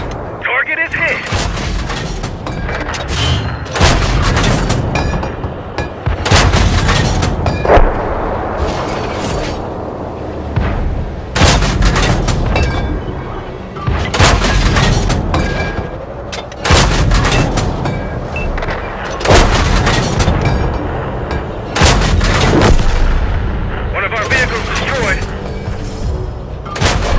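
Tank cannon fire and explosions in World of Tanks console, played with a T40/M17 Whizbang on the Steppes map: loud, booming shots and blasts repeat every few seconds over a rumbling background, with game voice callouts between them.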